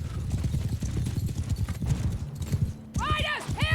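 Many horses gallop in a battle in the Mount and Blade Bannerlord video game, with dense rumbling hoofbeats loud and close, then a sharp whinny near the end while someone talks over it.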